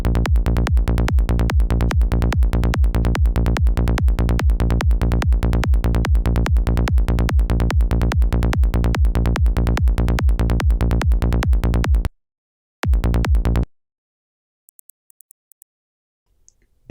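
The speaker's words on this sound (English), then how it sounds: "Let's hear it with the kick." Psytrance bassline driving together with a kick drum, a dense, relentless stream of rapid bass pulses and thumps, loud and continuous, stopping abruptly, then a brief burst and faint clicks before silence.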